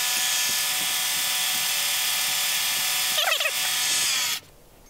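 A vertical mill drills down into brazed cast iron: a steady, loud machine whine runs throughout, with a brief screeching burst near the end before the spindle sound cuts off abruptly.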